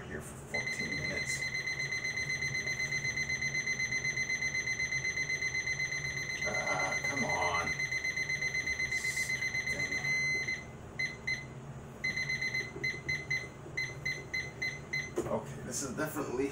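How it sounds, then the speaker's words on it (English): A kitchen timer set for 14 minutes beeps steadily for about ten seconds, a loud continuous alarm over a pasta dish being cooked, with short clicks and a few broken beeps afterward as it is set again. "We're gonna set that timer here for 14 minutes."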